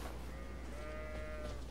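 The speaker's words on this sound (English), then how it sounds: "And here is some sheep." Sheep bleating in the video game Elden Ring, a faint wavering bleat drawn out over a steady low game ambience, with no talk.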